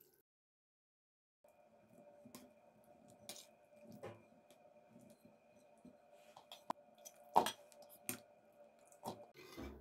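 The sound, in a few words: rinsing olives in water to remove excess salt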